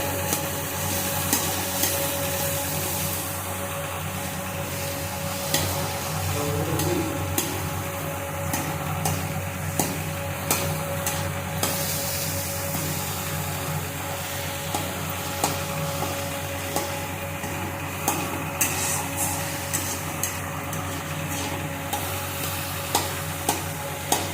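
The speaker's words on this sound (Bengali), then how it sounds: "আমি খুন্তির সাহায্যে আমি এইভাবে ম্যাশ করলাম" Fried pumpkin being mashed with a metal spatula in a pan with onions and salt, giving steady scraping and stirring over a faint sizzle, with repeated light taps against the pan throughout.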